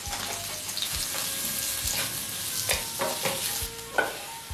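Courgette, onion and bell pepper stir-fry in a pan for vegan japchae, giving a continuous close sizzle broken by repeated scraping, stirring strokes of a utensil against the pan.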